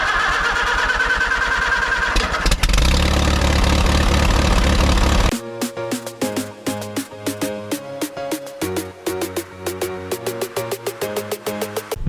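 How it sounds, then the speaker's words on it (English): A 2008 GMC Acadia's engine cranks with a rough whirring churn for several seconds, catches and starts, then settles into a steady, close idle hum with faint rhythmic ticking and no talking. "so got the engine started."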